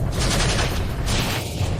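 Rapid, sustained bursts of gunfire in a continuous volley at close range, loud and dense for about two seconds with no pauses and no voices.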